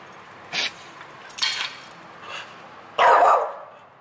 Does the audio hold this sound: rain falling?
no